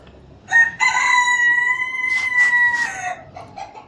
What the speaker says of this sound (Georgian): აი მე რა უყო ახლა ამ ქათმებს